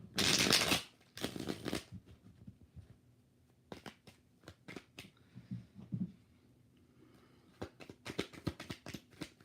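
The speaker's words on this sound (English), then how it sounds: "One more shuffle for his intentions towards Jill" Tarot cards being shuffled in several quick riffling bursts, with soft handling taps and pauses between them, close and fairly quiet, no talking.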